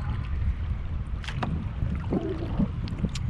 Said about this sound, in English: we're getting to an opening on the lake and the wind is just getting stronger